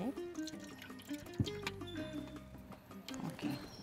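Liquid for Belizean tamales is poured through a strainer, trickling and splashing with a sharp clatter partway through, while kitchen clinks and faint background sounds continue.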